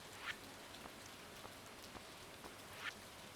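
Steady light rain patters in the Stardew Valley farming game, a soft even hiss with scattered drops and a couple of faint brief chimes, with no talking.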